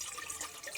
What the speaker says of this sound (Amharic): ለብ ያለውን ውሃ ጨምራለሁ